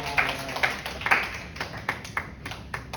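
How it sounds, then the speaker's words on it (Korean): Sparse, uneven clapping from a small youth church congregation during a worship service, a few distinct claps scattered over three seconds at low level. "박수."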